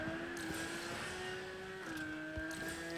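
A steady high-pitched engine whine from a Porsche Carrera GT in the racing game Asphalt Legends Unite holds a constant tone throughout, with a slight pitch shift midway.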